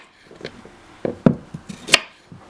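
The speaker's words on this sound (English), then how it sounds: "next I'm going to chop up a carrot" A knife chops through a carrot on a cutting board with a handful of sharp, irregular, close taps and knocks over about two seconds, the last one the loudest.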